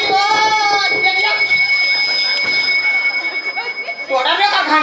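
A bell rings with bright sustained tones during a Chhattisgarhi nacha folk theatre performance, heard amid lively shouting voices and laughter, loud and close.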